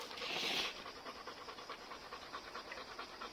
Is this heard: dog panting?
yes